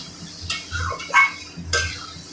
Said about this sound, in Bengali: সামান্য পরিমাণে আমি নারকেলের দুধ দিলাম, দিয়ে ভালো করে কষে নেব একটু